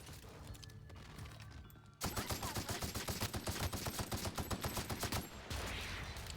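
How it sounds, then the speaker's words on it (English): A plasma gun in The Outer Worlds fires a fast, steady string of about twenty sharp shots over roughly three seconds, fairly quiet overall, then stops. "Will they suffer if I shoot them with a plasma gun?"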